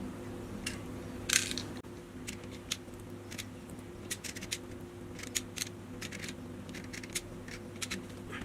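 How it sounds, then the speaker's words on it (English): Small plastic ball bullets click one by one into a toy AK47 magazine, light, close ticks in an irregular rhythm over a steady low hum. "Here are the ball bullets. Ball bullet for this toy gun. Here is the magazine. Let's fill the magazine."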